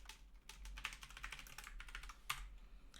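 Continuous, rapid clicking of keys on a computer keyboard while someone types code, close and fairly quiet, over a low steady hum.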